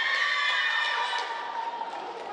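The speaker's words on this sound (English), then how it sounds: "I think Deshaun's got a big crowd there cheering him on." A crowd cheering and shouting at an indoor swim meet championship, a sustained wash of high excited voices and whistles echoing around the pool hall, loud and steady.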